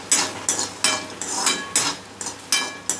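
Peanuts frying in a pan for garlic chutney, stirred around in repeated scraping, rattling strokes roughly every third of a second, close and moderately loud, with no talk.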